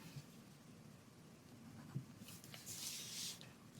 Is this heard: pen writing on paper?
yes